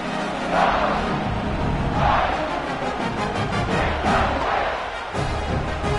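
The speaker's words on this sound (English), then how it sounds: "this crowd now ready to get behind them" A football stadium crowd roars just before kickoff, a dense, continuous wall of cheering that rises and falls in waves, heard from within the stands.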